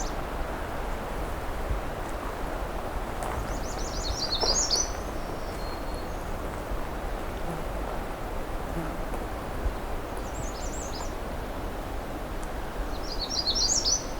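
A magnolia warbler sings close by in woodland at Pine Tree Harbour, brief bright phrases repeated three times over a steady hiss of wind or water.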